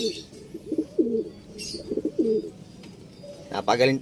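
Racing pigeon cooing in soft repeated low burbles, several phrases in a row with brief gaps, close by and fairly quiet over faint outdoor background noise, with a louder flutter of calls near the end.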